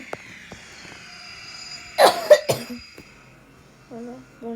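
A few short, harsh coughs burst out close by, with a quieter voiced sound trailing after them.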